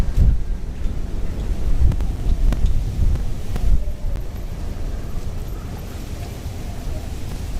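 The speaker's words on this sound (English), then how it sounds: "You must hear the wind now, right?" Strong wind buffets the microphone on a Tokyo street walk between Shibuya and Harajuku, a loud continuous low rumble with gusty swells that ease slightly toward the end.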